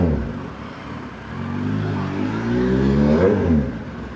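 Car traffic on a road: a nearby vehicle engine hums and rises in pitch as it accelerates, its tone sweeping upward before easing off, with steady road rumble underneath.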